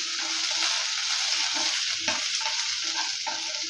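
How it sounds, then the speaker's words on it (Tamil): Small shallots sizzling steadily in hot oil in a pan while being stirred, a loud continuous frying hiss with soft scraping stir sounds underneath throughout, as part of making chutney for ragi dosa. "ஒரு மூணு சின்ன வெங்காயம் சேர்த்துக்கலாம் இப்போ அதையும் நல்லா லைட்டாக வதக்கி எடுத்துக்கலாம்"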